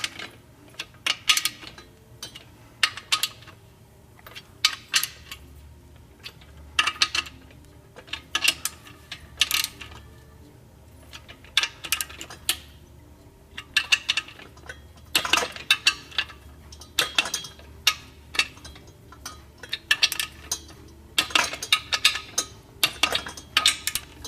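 Engine bolts on a Suzuki Jimny, Katana or Samurai being snugged up evenly toward final torque, sharp metallic ratchet clicks in short irregular bursts, close and clear against a quiet room.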